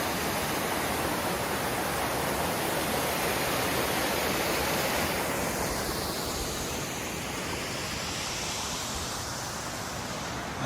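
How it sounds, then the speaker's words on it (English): Water pours steadily through a waterfall below a bridge on a granite hiking trail at Van Sickle Bi-State Park, a continuous, loud, broadband rush filling the whole span with no voices. "The water from up there, it just percolates through the ground and comes through here."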